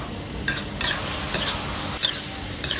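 Beef stir-fried in oil with onion, spring onion and chili makes a continuous close sizzle, broken by about five sharp spatula scrapes against the pan at uneven intervals.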